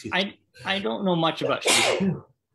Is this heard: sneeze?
yes